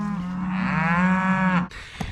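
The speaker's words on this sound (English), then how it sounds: "all the cows are kind of crowded around the gate here to come into the corral." Cattle at a ranch, crowded around a corral gate, let out one long, loud, close moo lasting well over a second, followed by a brief quieter noise.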